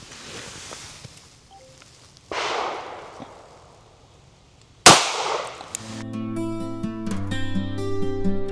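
A single sharp gunshot from an S&W Bodyguard 2.0 pistol firing Federal Hydra-Shok Deep 99 grain ammunition into organic gelatin, a loud crack after quieter rustling, followed by a ringing, tonal electronic beeping.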